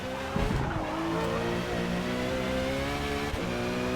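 A race car engine roars in a racing video game at a wet-to-soft tyre strategy race, holding a loud, steady high-revving drone through the corner with slight shifts in pitch and no talk.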